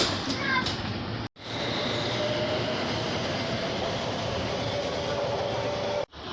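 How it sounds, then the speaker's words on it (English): A Stockholm metro train in motion gives a steady, loud rumble and roar heard from inside the carriage, dipping briefly twice, with faint clatter along the track. "And now going a few stops on the Stockholm metro down to the station near the docks."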